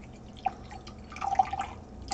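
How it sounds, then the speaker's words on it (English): Water being added, 150 ml, to a PC water-cooling system: a few faint, scattered drips and small splashes near the microphone, with a short cluster of drops in the second half. "So we're going to add 150 milliliters of water."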